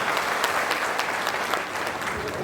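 Loud, continuous applause fills a political party meeting as a motion is passed, dense clapping sustained evenly with no voices on top.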